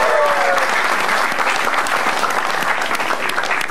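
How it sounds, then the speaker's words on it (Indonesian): Audience applauding at an Indonesian stand-up comedy show, a dense, steady burst of clapping from a crowd that holds loud throughout. "Oke, tepuk tangan dulu buat Krisna Reva."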